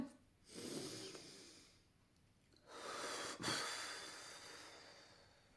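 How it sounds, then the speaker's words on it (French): A slow, deep breath drawn in and let out, several broad airy inhales and exhales with brief pauses between them, close and fairly quiet with no talking. "on prend une grande respiration"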